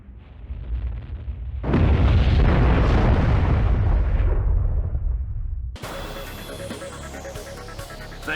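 A loud, rumbling aircraft explosion booms in the Ace Combat Zero jet combat game, swelling suddenly and roaring for several seconds before cutting off into quieter game sounds.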